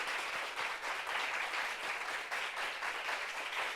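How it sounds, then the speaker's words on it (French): An audience applauds a guest introduced at a meeting, a fairly quiet but steady crowd of clapping hands with brief individual claps standing out now and then. "Applaudissements pour Estelle."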